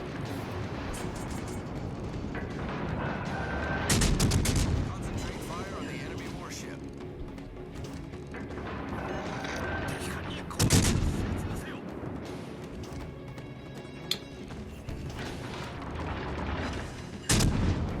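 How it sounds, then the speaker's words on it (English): Naval guns from warships firing in the game World of Warships Legends, with loud booming salvos at intervals over a constant engine and sea rumble, and speech from the player running under it. "So we're going to take some shots at the Leander"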